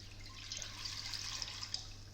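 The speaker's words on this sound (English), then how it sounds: "So to do this, we're going to add water" Water is poured into a pan to make a pickle in a kitchen, a steady, hissing splash over a low electrical hum, brief and moderately quiet with no talk.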